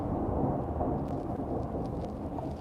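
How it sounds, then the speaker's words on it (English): Thunder rumbles in the background during a storm, a steady low roll that fills the whole stretch with no voices over it. "do you guys hear that thunder in my background?"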